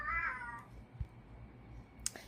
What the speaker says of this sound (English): Excuse the cat calling.